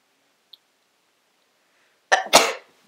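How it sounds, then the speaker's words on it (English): A single sharp sneeze bursts out close and loud after a quiet stretch with one tiny click, a quick intake followed by an explosive two-part blast that fades fast. "Now I'm gonna sneeze."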